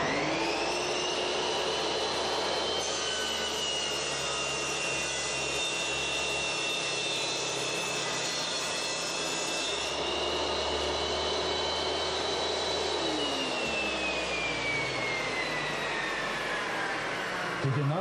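Triton Workcentre saw cross cutting a board: a loud, steady motor whine with a bright blade tone running the whole time, shifting in pitch partway through as the cut finishes.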